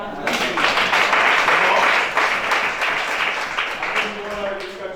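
A church congregation at a deliverance worship service breaks into loud, sustained applause and cheering that gradually tapers off, with voices mixed into the clapping.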